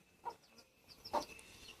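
A chicken clucks twice outdoors, two short separate calls about a second apart, near and moderately loud against quiet surroundings.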